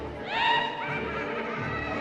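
A horse in the Harry Potter and the Chamber of Secrets video game, at Hogwarts, gives a single clear, sweeping neigh that trails off into a softer whinny, fairly close and alone.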